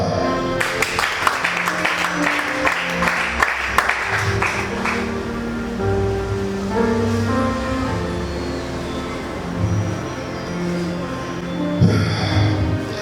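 A congregation at a religious gathering applauds and cheers, a burst of dense clapping at the start thinning into a crowd roar with a sustained musical tone underneath, and more claps near the end.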